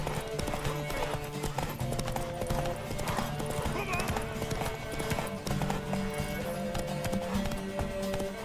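Hooves clattering in a steady, fast rhythm as a horse moves in The Witcher 3 video game, heard throughout under layered game music, with a brief whinny and some talk in the background.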